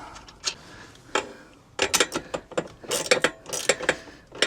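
A ratchet tightens nuts on a swivel seat in a Ford Transit Custom van, giving quick bursts of close clicking and metallic rattles, sparse at first and then busier and more rapid.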